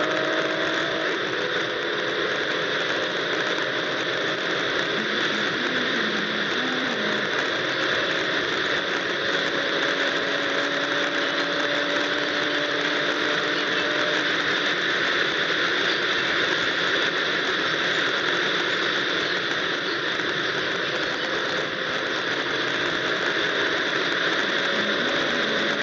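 BMW M340i engine pulling hard at high speed on the Autobahn, a steady sustained drone with rising tonal harmonics over constant road and wind roar, no talking.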